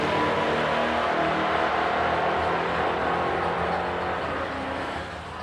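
A drag racing car at an Edmonton dragstrip sputters in the left lane, a rough, loud engine drone over steady track ambience that eases off slightly toward the end.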